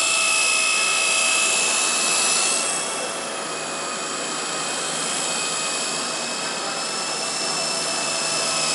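An RC model helicopter flies nearby with a steady high-pitched turbine-like whine, loud at first, then dipping slightly and holding steady as it moves around.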